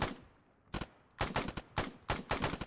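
Gunfire in the military shooter Arma 3, with several sharp bursts of rapid shots in quick succession separated by brief pauses, loud and fairly close.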